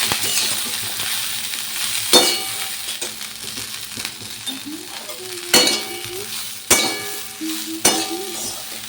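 Broccoli and potatoes fry in a little oil over low heat, giving a gentle sizzle with several sharp metallic clanks and scrapes of a utensil against the pan.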